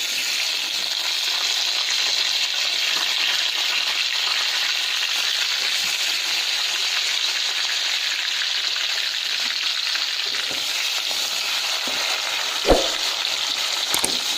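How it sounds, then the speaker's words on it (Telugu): Sliced onions fry in hot oil in a pan while a kaju paneer curry is being made, giving a steady, loud sizzle with one brief clatter near the end and no voices. "ఆనియన్స్ గోల్డెన్ బ్రౌన్ కలర్ వచ్చేంత వరకు ఫ్రై అవ్వాలండి."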